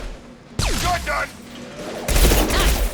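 Shotgun blasts and gunfire in a Mass Effect 2 firefight played on Insanity difficulty, loud bursts at the start and again near the end, with game voices talking in between.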